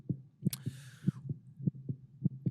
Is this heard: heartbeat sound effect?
yes